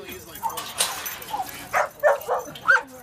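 Dogs at a dog park give a handful of short yips and barks, some sharp and close, spaced irregularly over faint outdoor ambience with people's voices nearby.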